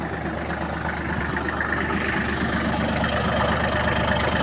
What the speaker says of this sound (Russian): Трактор. Завелся сразу, работает мягенько